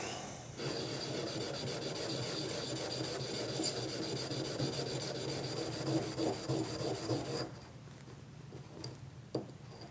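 Hardened steel washers are rubbed back and forth across an oiled sharpening stone, making a steady close rasping scrape that stops near the end and leaves a few light taps, with no talk.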